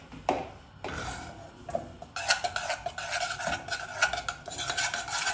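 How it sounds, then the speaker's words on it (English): A spoon scrapes and stirs a butter and flour roux in a pan over a low flame for mushroom sauce, close, soft rhythmic scraping strokes with a faint sizzle and no talking. "Stir and cook on low flame for about 2 to 3 minutes"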